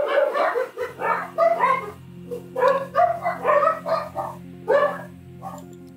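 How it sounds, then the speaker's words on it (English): Ziggy the dog barks and yips in a rapid series of sharp, fairly close barks over a low steady game hum, with no talking. "That's my dog Ziggy there telling me"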